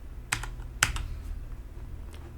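A computer keyboard tapped while writing code in Visual Studio: two or three sharp, close key clicks over a low steady room hum, then a few softer taps.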